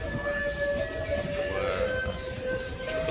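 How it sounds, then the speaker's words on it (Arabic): Interior of a moving metro train in Los Angeles, with a steady rumbling hum and a sustained tonal whine running throughout, fairly loud and even. "حاليًا مع الموسيقى الحزيني انا في المترو"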